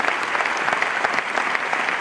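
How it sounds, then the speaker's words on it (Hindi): Audience applause at an Amway diamond success celebration event, a dense, steady wash of clapping from a large crowd, loud and sustained without pause. "जोरदार ताली दोस्तों।"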